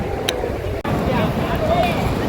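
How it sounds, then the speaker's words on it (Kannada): A boat moves across the water on a Goa trip, giving a steady, close, broadband wash of engine and water noise, with faint voices mixed in. "ಇದೇ ದೋಣಿ ಹೋಗ್ತಾ ಇರೋದು."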